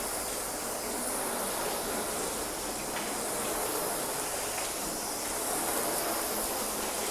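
A water spray rinses down a car panel, a continuous bright hiss that stays broad and even throughout at moderate loudness, with no pauses.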